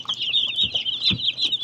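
Broiler chicks chirp in a continuous high peeping chorus, close and steady, with soft thumps and shuffling from the birds underneath.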